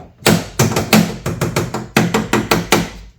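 A plastic adapter taps against a resonant car door, about a dozen sharp knocks in uneven pairs and runs, each with a short ringing decay, close and loud with no talking.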